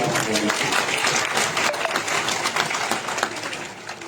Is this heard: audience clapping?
yes